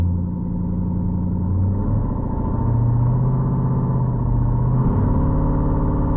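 Exhaust from a Trackhawk or SRT rumbles at close range, with deep low engine tone swelling through a few throttle blips and revs before settling back.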